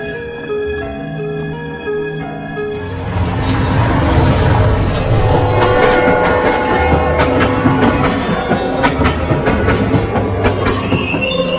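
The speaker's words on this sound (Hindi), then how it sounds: "ट्रेन हवा से बातें करती हुई उनको गांव के स्टेशन पर पहुंचा देती है।" A train runs along the rails, starting with a squealing, tonal wheel whine before loud rolling rumble and rhythmic clickety-clack take over, close and continuous, with metallic squeals threaded through.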